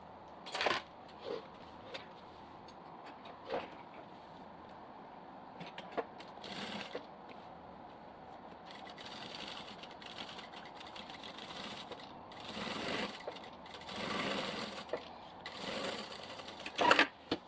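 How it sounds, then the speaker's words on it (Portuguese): A sewing machine stitches along the bottom of a diaper bag, its motor whirring in steady runs broken by short pauses and small clicks, fairly close and moderately loud with no talking. "Agora eu posso passar uma costurinha aqui na parte de baixo."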